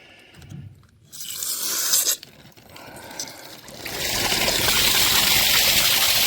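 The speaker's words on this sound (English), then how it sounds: "the water's running out of here" Coolant water runs out of a diesel generator cooling system, a faint scrape and trickle giving way to a louder, steady splashing flow in the second half.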